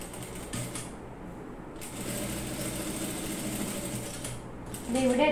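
A sewing machine hums and clatters steadily throughout, stitching a lined square neckline, its rhythmic mechanical chatter close and even, with no talking.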